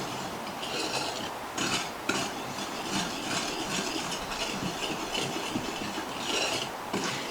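Rapid scraping and rattling of a whisk stirring flour, sugar and baking powder in a bowl, a close continuous gritty rhythm with brief pauses and no talking.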